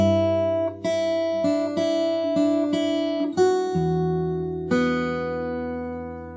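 A song from Cyberpunk 2077 on guitar: a short bridge of separate plucked notes and ringing open strings, played slowly and cleanly, each note sustaining into the next, with no voices.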